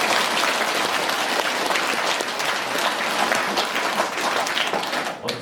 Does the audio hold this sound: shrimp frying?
no